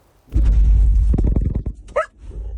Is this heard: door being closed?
no